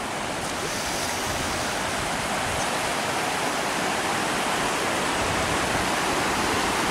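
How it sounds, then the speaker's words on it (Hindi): A large river rushing steadily down from the mountains at dawn between Chilas and Jaglot on the road to Skardu, a dense, continuous roar of water heard close and loud throughout, with no voices. "रात को आवाज़ ऐसे आ रही थी जैसे बहुत ये ज़्यादा पानी है"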